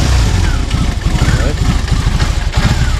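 A BMW R18 motorcycle idles in neutral, its low, steady engine pulse close and loud, with a man's brief spoken words over it.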